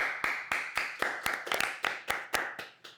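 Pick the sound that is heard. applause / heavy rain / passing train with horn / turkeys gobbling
applause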